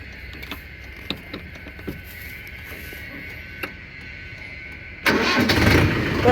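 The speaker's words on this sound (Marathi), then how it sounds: "ट्रॅक्टर स्टार्ट करूया एकदा." A Mahindra Yuvo Tech Plus 585 DI 50 HP 2WD tractor engine turning over, preceded by quiet clicks, then catching with a sudden loud diesel roar that settles into a steady rumble at close range.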